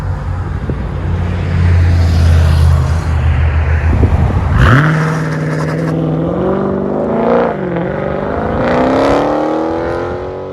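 A Dodge Challenger Scat Pack with a 6.4L engine and modified exhaust, Dynomax Bullets or a resonator delete, rumbling deeply at first, then revving hard with rising, falling and climbing pitch, loud and near.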